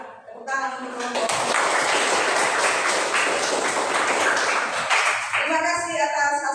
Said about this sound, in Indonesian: Sudah, tepuk tangan untuk kelompok.